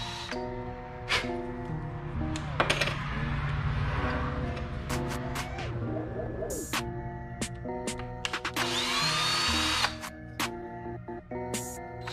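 A power drill cuts a countersink for a screw in short whirring bursts of rising and falling pitch, close and fairly loud, separated by pauses filled with clicks and handling noise.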